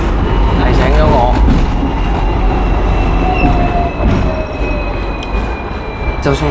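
Tram rolling along, a loud close rumble with drawn-out metallic squeals of wheels on rails rising above it, fading somewhat toward the end, with talk over it.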